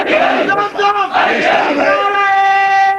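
A large crowd at a religious lecture gathering shouts a religious slogan in unison, loud, close and sustained, the voices rising together into a long held chant.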